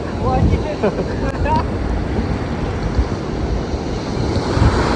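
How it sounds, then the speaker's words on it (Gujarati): Sea waves surge and crash at Mandvi Beach in Kutch, Gujarat, in a constant roar with gusty wind buffeting the microphone, and faint voices briefly in the background. "જુઓ દરિયાના મોજા પણ કેવા ઉછળી રહ્યા છે"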